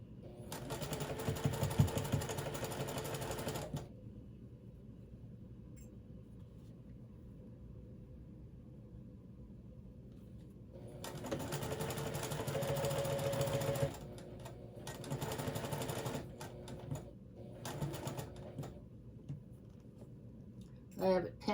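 Sewing machine running a regular stitch on a sun dress: a loud continuous motor whir for a few seconds, a quiet pause, then longer and shorter stitching bursts with stops in between.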